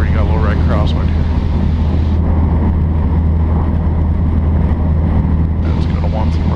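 Small training airplane on its takeoff roll, heard from inside the cockpit: a loud, steady engine drone with a strong low hum, with voices over the intercom at times.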